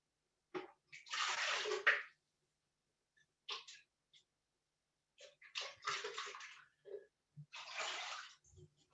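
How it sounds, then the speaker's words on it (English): Water from a tap runs in short bursts while a blender is rinsed in a kitchen, quiet splashing gushes of a second or two separated by silences and small clinks. "I'm gonna rinse the blender for"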